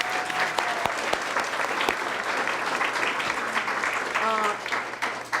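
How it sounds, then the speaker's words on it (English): Audience applause at a chamber of commerce women in business expo, steady clapping from a room full of people, with a few sharp nearby claps and brief voices mixed in. "Big round of applause for the Country Club."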